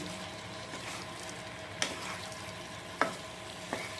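Chicken pieces are stirred through curry gravy in a pan, a soft continuous sizzle broken by a few sharp scraping clacks of the spoon against the pan.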